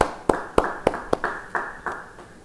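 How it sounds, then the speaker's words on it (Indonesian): Scattered hand claps from a church congregation during an Indonesian sermon: about eight sharp, fairly loud claps at uneven intervals, each ringing briefly before the next, with no voices over them. "Yang percaya beri tepuk tangan sekali lagi buat Tuhan."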